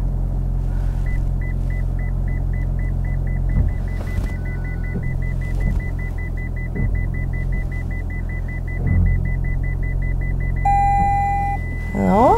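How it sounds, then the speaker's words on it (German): A Toyota parks itself using its Intelligent Parking Assist, with a steady low engine rumble and road noise under a fast, regular string of parking-sensor beeps, plus a brief chime near the end. "Unser Toyota parkt wieder komplett selbstständig ein."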